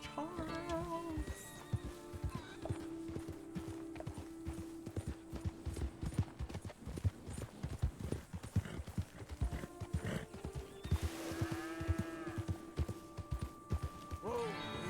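Horse hooves clip-clop in a quick, steady rhythm on hard ground, close by, with a couple of horse whinnies rising over the footfalls, in the video game Red Dead Redemption 2.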